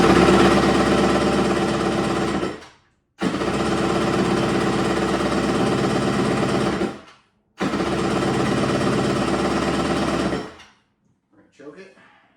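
A Kawasaki jet ski engine cranking in three long bursts, a harsh rapid churning drone broken by short pauses, loud and close, with a faint rattle at the end and no clean start.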